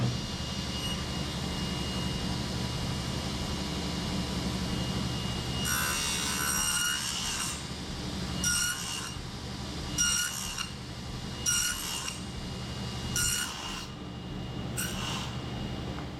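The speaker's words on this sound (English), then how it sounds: "So just by making multiple cuts with a straight cutting blade, you can make yourself a rabbet." A straight cutting blade makes a rabbet in a wood workpiece for a shelf on a shopmade fuel dolly: about six short, loud, rasping cuts in a row over a steady low workshop hum, with no talk.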